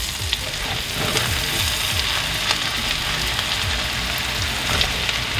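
Braised potatoes sizzle steadily in a covered pan, a continuous close frying hiss with faint crackles and no talking over it.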